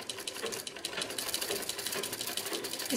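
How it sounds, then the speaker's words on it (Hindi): A home sewing machine runs while winding thread onto the bobbin. Its steady rapid mechanical whirring and ticking stay close and continuous throughout, with no one talking. "इसको दबाएंगे तो हमारा बॉबिन में धागा भरना शुरू हो जाएगा।"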